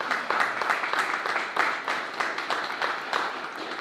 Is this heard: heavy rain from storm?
no